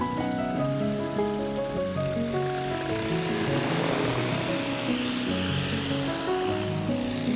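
A paramotor engine drones loudly and continuously with a buzzing propeller as the pilot comes in to land, steady and close throughout with wind rush mixed in.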